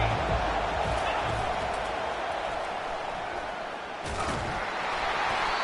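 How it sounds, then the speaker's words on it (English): Stadium crowd noise swelling in the Madden football video game during a third-down defensive stand, a steady roar with commentary talking over it and a brief slam-like burst near the end. "Decibels rising as the crowd gets behind this defense on third down."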